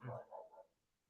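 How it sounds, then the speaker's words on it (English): Dogs bark faintly in the background of a live fan call, three short muffled barks fading out within a second. "Apologies about the barking dogs"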